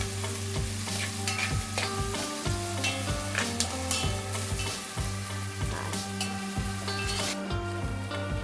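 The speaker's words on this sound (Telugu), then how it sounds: "కొంచెం వేయించుకోవాలండి ఉల్లిపాయలు" Onions sizzle steadily in a hot pan for onion rice while a spoon stirs and scrapes them, giving repeated metallic clinks and scrapes close up, with no talking.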